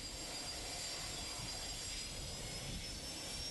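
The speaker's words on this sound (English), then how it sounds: "Let's take a look at a typical departure on a multi-engine aircraft." A multi-engine aircraft on departure, its engines giving a steady, even roar with a faint high whine, moderately distant and unbroken, with no voices.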